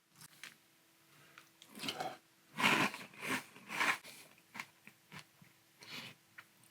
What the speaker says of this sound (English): let's give a try to Cinnamon Toast Crunch Strawberry in milk